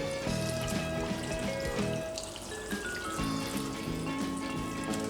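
Water pours steadily into a Thermomix bowl over cashews, salt and pepper for a squash soup, a continuous close trickle and splash running throughout with no talk.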